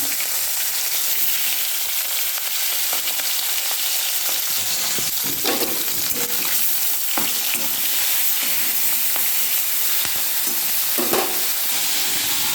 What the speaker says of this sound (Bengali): এরপর মাছের পিসগুলো ভালো করে লাল লাল করে ভেজে নেব।